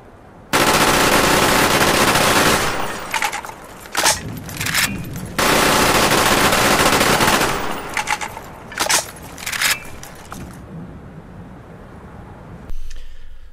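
Two guns firing rapid fire side by side in a video game, long dense bursts of automatic gunfire broken by short pauses and single shots, loud and close with no talk.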